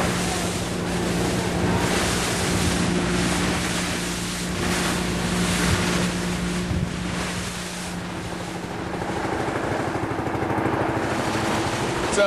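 A motorboat engine drones steadily off the coast of Palawan Island, Philippines, over wind buffeting the microphone and the wash of sea waves, continuous and fairly loud throughout.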